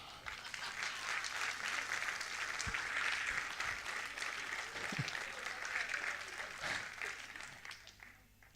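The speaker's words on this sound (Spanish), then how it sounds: "¿Por qué no me dan un aplauso?" A church congregation gives a sustained round of applause, a dense wash of clapping with a few sharper individual claps standing out, fading slightly toward the end.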